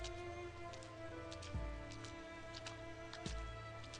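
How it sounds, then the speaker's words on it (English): Heavy rain pours in the Arknights video game, a steady hiss of drops under sustained tonal game music, with occasional low thuds breaking through. "The rain continues to come down hard"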